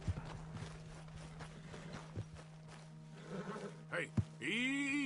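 Horse hooves clip-clop in Red Dead Redemption 2 as a rider calls and soothes the animal. The steps are light and irregular under a low steady drone, a few sharper thumps stand out near the end, and a neigh-like sound closes the clip.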